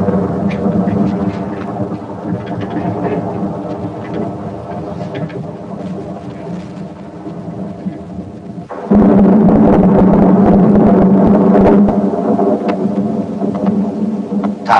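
Thunder rumbles through a Vietnamese drama scene as rain approaches, a broad low roll that swells and then jumps louder partway through into a dense, steady wash of storm and rain, with no voices.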